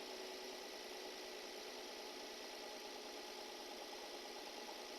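A Nissan VQ35 V6 engine idles steadily under a constant broad hiss, its low rumble holding even and unbroken as the revs settle lower, with no talk over it.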